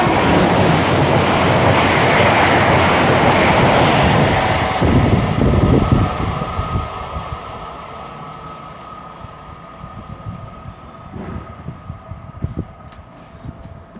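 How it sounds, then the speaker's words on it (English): An Avanti West Coast Class 807 electric train passes through Nuneaton, starting as a loud rushing roar that fades over several seconds into a quieter rumble and faint rattles as it moves away. "now about to pass by 807-003 for Avanti West Coast, working I think it was 1 Foxtrot 29 from London Euston to Liverpool Lime Street"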